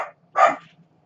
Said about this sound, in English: You hear them dogs? They're barking.